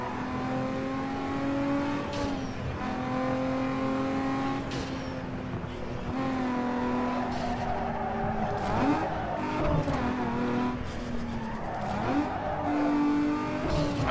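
Race car drifting in Need for Speed Underground 2, a continuous revving engine with rising and falling pitch and long tire squeals through the slides, loud and close.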